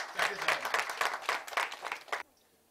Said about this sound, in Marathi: मला वाटतं आपण एक कडाडून टाळी देऊ त्यांच्या जिगरला